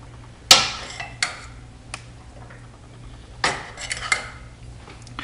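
Yellow rice with sautéed onions and peppers is served into a bowl with utensils. Scattered clinks and scrapes of metal on dishware ring out clearly against a quiet background.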